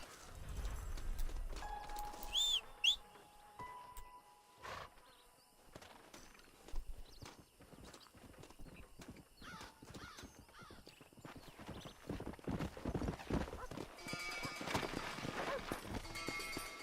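Horse hooves clip-clop and a horse snorts and whinnies in the Red Dead Redemption video game, with scattered game sounds and a rising rhythmic trot toward the end, mostly moderate in level.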